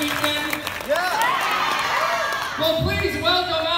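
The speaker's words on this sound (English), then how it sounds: "Give a big round of applause for Tikki and Plagg and Hawkmoth." A comic con panel audience claps and cheers for the Miraculous Ladybug voices of Tikki, Plagg and Hawkmoth, a loud, steady wash of applause with whoops rising over it and voices talking through the din.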